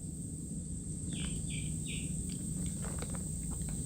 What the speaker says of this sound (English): they're loud little chirping suckers too